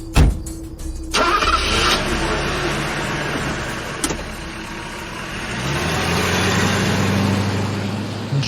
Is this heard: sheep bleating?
no